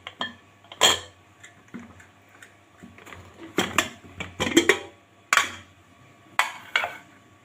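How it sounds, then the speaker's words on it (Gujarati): A pressure cooker being opened after cooling, with scattered metallic clanks and clicks of the lid and utensils, sharp isolated knocks separated by quiet pauses. "હવે આપણે કુકરને ખોલી લઈશું."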